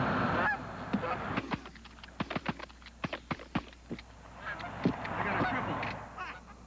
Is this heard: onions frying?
no